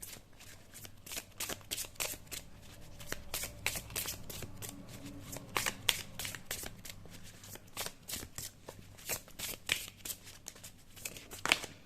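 Tarot cards are shuffled by hand before a single card is drawn, a long run of quick, crisp riffling and flicking bursts in an irregular rhythm, close up with no talking.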